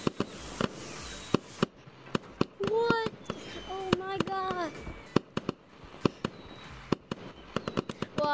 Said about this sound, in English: There's fireworks.